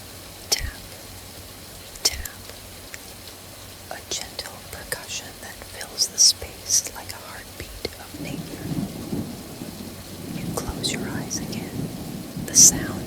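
Steady rain patters on a cabin at night, a soft continuous wash with scattered drop taps, heard under close whispered speech.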